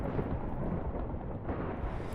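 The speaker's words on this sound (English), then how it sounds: "Also, this damn lightning." Thunder rumble from lightning in the video game Project Singularity, a continuous low, dense roar with rain-like noise, steady and fairly loud throughout with no talking.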